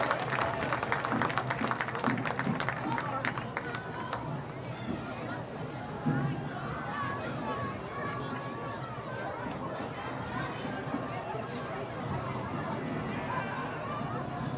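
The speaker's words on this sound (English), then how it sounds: "Big round of applause, please, to your 2024 homecoming courts." A crowd claps and cheers for the 2024 homecoming courts at a high school football game, with loud applause for about four seconds that then thins into crowd chatter and general stadium noise.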